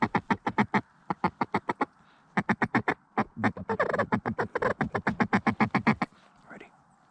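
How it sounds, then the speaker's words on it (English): Mallard and gadwall ducks quack in rhythmic, evenly spaced runs of loud, close calls during a kayak duck hunt, with short pauses between series and a wash of background noise partway through. "we've been hearing mallards and gadwall quite a bit tonight"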